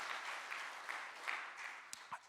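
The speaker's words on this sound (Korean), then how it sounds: "우리 좋으신 하나님께 감사와 영광의 박수합니다." A church congregation at a Sunday afternoon praise service applauds in thanks to God, a faint, steady patter of clapping heard from a distance with a few sharper knocks near the end.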